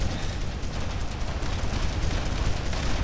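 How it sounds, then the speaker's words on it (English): Small satchel charge blast in the WWII shooter Brothers In Arms: Road to Hill 30, a dense, rumbling broadband roar sustained at steady loudness throughout, with no voices. "it's such a huge sat satchel charge for such a tiny explosion"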